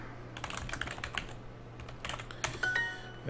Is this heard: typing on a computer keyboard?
yes